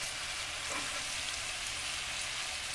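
Chicken fries in a pan while being stirred, a soft, even sizzle that stays steady and faint throughout, with no voices.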